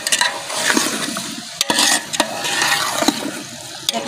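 Potatoes and carrots frying and being stirred in a pan for a village-style aloo matar gajar sabzi, with crackling sizzle, scraping stirs and a few sharp utensil clacks, close and fairly steady.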